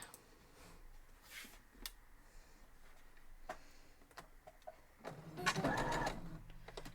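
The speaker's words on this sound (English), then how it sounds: "So we're going to go and sew that up." A sewing machine stitching a quilt block runs in a short burst near the end, a quick mechanical rattle after a quieter stretch of scattered small clicks and handling noises, faint overall.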